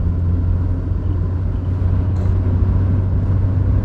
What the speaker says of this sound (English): it's a nice torquey engine. It's got some low down grunt.